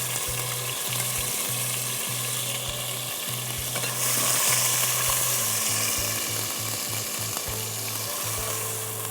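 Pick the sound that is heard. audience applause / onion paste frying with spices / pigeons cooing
onion paste frying with spices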